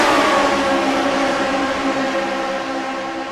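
Race car engines in a video game racing sim at Michigan, a dense pack droning together in a steady, loud, sustained whine that eases slightly toward the end.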